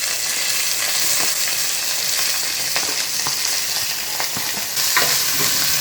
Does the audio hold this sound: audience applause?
no